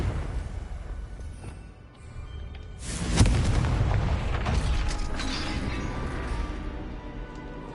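A Confringo blasting spell from Hogwarts Legacy bursts with a sudden loud boom and crackle, then leaves a long rumbling roar that slowly settles, with no talking.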